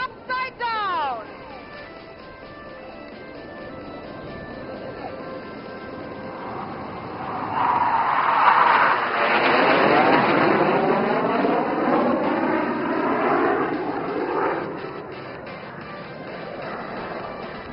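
Over a public-address voice, an aerobatic aircraft flies inverted during the Aero India air show at Yelahanka Air Force Station, its engine rising into a loud, sweeping roar as it passes overhead, then fading off.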